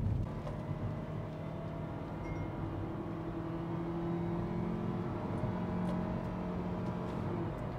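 MG Hector SUV accelerating on the throttle at highway speed, a steady engine drone with a rising hum mixed with road and wind noise, heard from inside the cabin with no talking.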